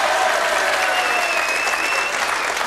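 A studio audience at a 1989 Dutch Boggle TV quiz show applauds loudly and steadily, dense clapping sustained throughout with no break.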